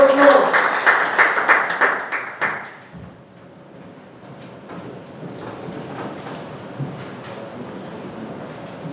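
A Toastmasters meeting audience claps to welcome the general evaluator, a short burst of rhythmic clapping that fades after about three seconds into quiet room noise with faint shuffling.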